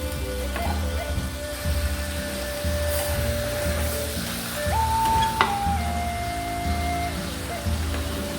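Chicken curry stirred in a pan, soft scraping and bubbling sizzle under a steady hum, with a few clinks of the spoon, close by.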